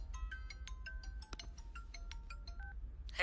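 A phone gives a repeated electronic ringtone for an incoming call. The tones are short, clear and evenly spaced, with a low hum underneath and no voices.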